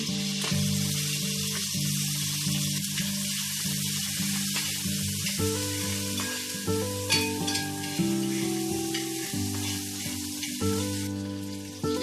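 Green chili, ginger and garlic sizzle steadily in hot oil in a pan, a close, continuous crackling fry with occasional stirring and a faint tonal hum underneath, no voices.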